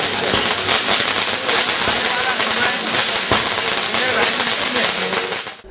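Fireworks for a mayor's birthday celebration at the mayor's residence crackle and pop in a loud, continuous barrage of rapid bursts, with crowd noise and voices mixed in before it fades out.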